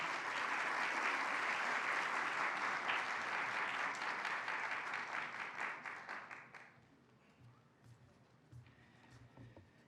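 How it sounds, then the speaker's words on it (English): An audience at a school-based children's event applauds loudly with dense clapping for several seconds, then it tapers off and fades to quiet room noise with a few scattered claps. "Please give him a round of applause."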